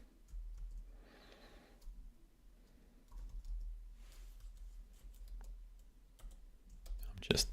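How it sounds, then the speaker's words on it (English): Quiet computer keyboard typing, with soft clicks of shortcut keystrokes coming in scattered bursts against a low hum, and one sharper click near the end. "I'm just using keyboard shortcuts to navigate"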